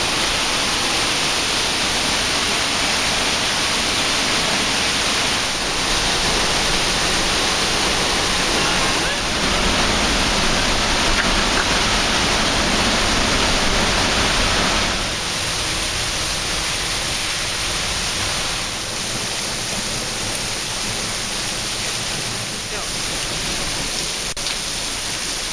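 A waterfall near Rio Negro, Ecuador roars in a constant, loud, broadband rush of falling water, steady and close for the whole stretch.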